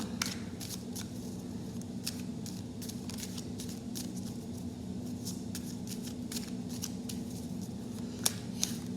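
Tarot cards being shuffled by hand, with soft riffling and scattered crisp flicks and snaps close by over a low steady hum.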